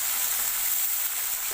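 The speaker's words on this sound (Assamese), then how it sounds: "এইখিনি হৈছে চচ্চড়িৰ কাৰণে দিছোঁ মূলাখিনি। পিঁয়াজো আছে একেলগে দি দিছোঁ।" Radish and onion fry for chorchori in a pan, giving a steady, close, dense sizzling hiss with no voices.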